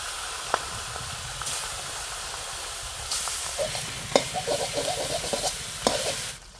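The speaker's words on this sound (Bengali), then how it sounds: "সেই জন্য আমি মাছের মাথাগুলো ভেজে নিচ্ছি।" Silver carp fish heads frying in hot oil, giving a steady bubbling sizzle with scattered sharper pops and spatters near the end, close up with no voices.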